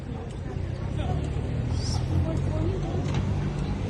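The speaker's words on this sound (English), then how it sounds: "Be careful with the cars now." Cars rumble past on a busy city street in Santiago, their steady traffic noise close and loud, with people chatting over the passing vehicles during a walking tour.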